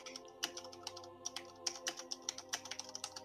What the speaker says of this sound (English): that's my mechanical keyboard